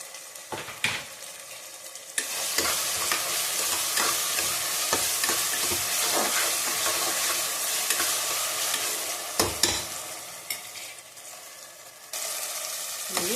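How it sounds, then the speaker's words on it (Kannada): Tomato and onion frying in a pan while making carrot rice, a steady close sizzle with repeated scraping stirs of a spoon against the pan. "ಟೊಮೊಟೊ ಈರುಳ್ಳಿ ಚೆನ್ನಾಗಿ ಫ್ರೈ ಆಗಿದೆ"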